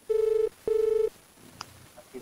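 A telephone rings twice in long, buzzing bursts, fairly close and loud, then falls quiet into faint background noise with a few small clicks.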